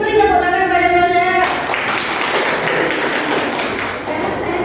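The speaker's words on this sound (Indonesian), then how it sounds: "Beri tepuk tangan pada Melda." Students in a classroom clap for a classmate; a voice speaks briefly before a broad, even wash of applause takes over and continues to the end.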